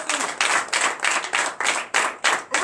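A church congregation at a night deliverance and prophecy service claps together in acclamation of Jesus, about eight loud, rhythmic bursts of unison clapping in quick succession, close and clear.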